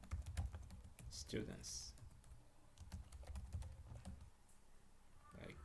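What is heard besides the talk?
typing on a computer keyboard in Excel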